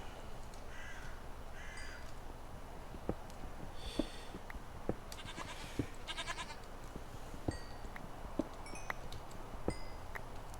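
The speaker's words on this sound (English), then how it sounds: "Hello, Mr. Goat." A goat in the Minecraft Hexxit modpack lets out repeated bleats mixed with cawing game birds, scattered calls rising over a quiet, steady background across the whole stretch.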